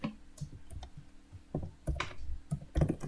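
A computer keyboard being typed on while writing a print statement in code, with quick close clicks and taps in short irregular bursts over a faint steady hum.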